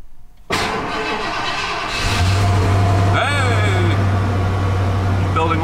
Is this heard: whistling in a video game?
no